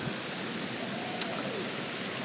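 A small, gently flowing waterfall with a drop of two or three meters gives a steady, soft broadband rush, even and continuous throughout with no other distinct sounds.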